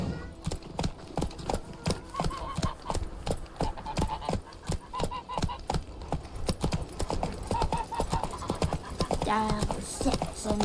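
Roach the horse galloping in The Witcher 3, with loud, rhythmic hoofbeats repeating close up across the whole stretch and a voice speaking over them at times.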